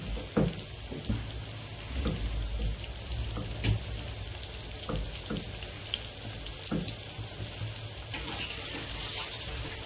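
Onion pakoras frying in hot oil in a home kitchen, a steady close sizzle and bubbling with faint scattered clinks and taps, no voices.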